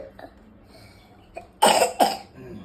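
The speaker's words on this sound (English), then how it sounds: "See, you got a lot of cough." A child coughs twice in quick succession, loud and close, after a few soft throat sounds and faint background murmur.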